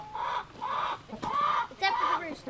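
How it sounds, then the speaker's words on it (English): Hens clucking close by in a few short, squawky bursts, one after another with brief pauses between. "it's those 4 hens up there"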